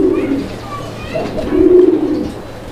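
A fancy pigeon coos in low, throaty, rolling phrases, two or three close bursts swelling in a short sequence, with a voice talking nearby.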